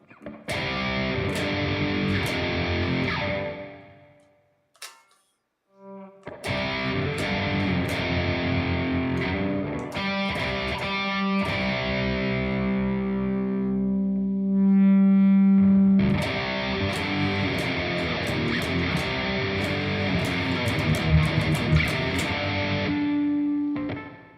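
A heavily distorted electric guitar plays thick, buzzing chords and sustained notes, loud and continuous apart from one brief pause.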